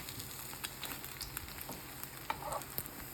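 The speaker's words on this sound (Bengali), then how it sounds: "আমি ওই সাইডটা আরেকটু ভেজে নিব" Shami kababs crisping in a frying pan give a steady low sizzle with occasional soft pops and light clicks, close by and moderately quiet, with no talking.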